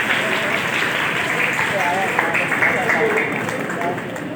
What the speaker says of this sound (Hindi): मैं चाहूंगा कि तालियां साथ साथ होनी चाहिए।